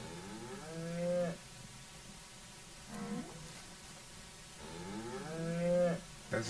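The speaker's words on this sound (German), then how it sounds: "Das ist eine Kuh." Cows in the ranching video game Ranch Simulator moo loudly two times, each a long, rising and falling low bellow, with a shorter grunt between them over a steady ambient farm background, and no talking.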